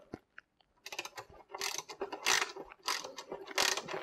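A Snap-On FDX ratchet tightens a fastener in close, quick bursts of crisp clicking, several short runs of pawl ratcheting separated by brief pauses, with no talking.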